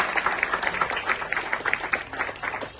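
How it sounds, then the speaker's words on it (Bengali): Audience at a Bengali New Year and Puja reunion gathering in the UK claps for Shipon, fairly soft, uneven applause with individual hand claps distinct, at moderate distance. "সবাই একটা জুড়ে হাততালি দেন শিপনের জন্য।"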